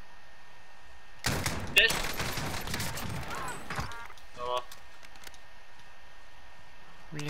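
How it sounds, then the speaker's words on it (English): Gunfire in the video game Call of Duty: Modern Warfare, a burst of rapid shots and clatter running for a couple of seconds with a player shouting over it, followed by quieter scattered game sounds. "When it sounds like the shots are near, no one shows up on the map."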